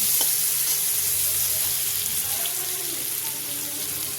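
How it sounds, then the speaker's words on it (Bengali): Onion and green chilli hit hot oil in a frying pan, giving a steady, loud, broadband sizzle that holds for the whole stretch without any voices. "পেঁয়াজ দিয়ে দিচ্ছি, সাথে কাঁচা লঙ্কা।"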